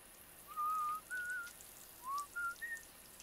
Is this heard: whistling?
yes